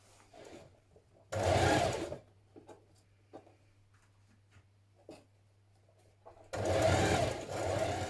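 A sewing machine stitches a gathered top in two loud, steady bursts, the first about a second long and the second running longer near the end, with quiet handling sounds and a low hum in between.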